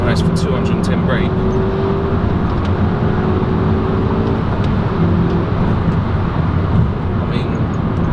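A VW Golf GTI engine and exhaust drone steadily from inside the cabin while driving, a constant road and engine roar under someone talking.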